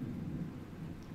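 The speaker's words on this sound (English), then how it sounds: "Man, I do love these games with great thunder sounds." Thunder rumbles low and steady over constant rainfall in a storm scene from the video game Patron, a continuous wash with no voices.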